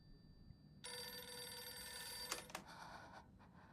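A phone rings with a bright electronic trill in a video game cutscene, one sustained ring burst loud and close, ending with a couple of short clicks and a quieter tail.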